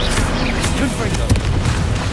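Confringo spell blasts in Hogwarts Legacy make a quick run of heavy booms with a sharp crack near the middle, loud and close over a busy background of game noise and voices.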